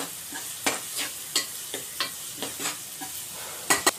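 Tomatoes added to reddish-browned onions sizzle in a hot pan for dal tadka, with a steady fry under repeated sharp scraping stirs of the spoon, close and fairly loud, no talking.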